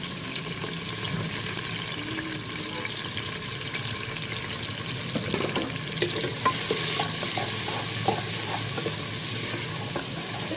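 Chopped large onion frying in oil in a pan for a mixed vegetable dish of potato, peas and carrot, a steady hiss of sizzling with occasional stirring clicks, growing louder and brighter partway through.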